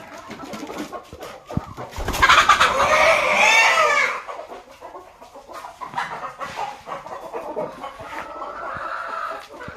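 Egg-laying hens cluck and squawk nearby, a loud burst of agitated clucking that settles into softer, intermittent clucks.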